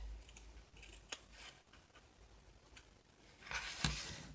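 Scissors trimming the fabric of a vintage handkerchief, a few quiet, sparse snips close by in a hushed room, with a louder cut near the end.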